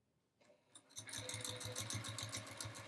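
A sewing machine quilts along the seams of quilt blocks in a steady, fast stitching rhythm that starts up after a brief quiet moment, close and clear with no talking.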